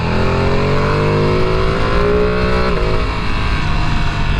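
A Ducati Panigale V2 sport motorcycle accelerating to overtake on the road, a loud, close engine note rising steadily in pitch with a brief shift near the end, under rushing wind.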